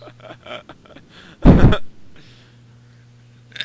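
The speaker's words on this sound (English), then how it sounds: "It sounded like someone coughing and they hung up on us" A single harsh cough or throat-clearing burst heard over a phone line, loud and brief, set against faint muffled line noise and a low steady hum before and after.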